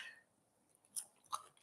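Crispy chicken skin peeled from buffalo wings being bitten and chewed close to the microphone, two short sharp crunches against near silence.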